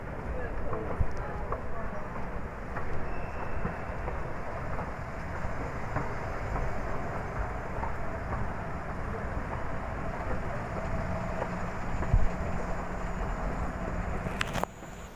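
Steady rumble and rattle of a subway train riding through Seoul, continuous and close, with people talking over it.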